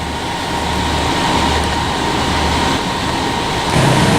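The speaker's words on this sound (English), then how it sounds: "here's this UP manifest about to move out again" Union Pacific manifest freight train idling before moving out, a continuous loud low rumble of locomotive and rail cars that swells slightly toward the end, with no talking.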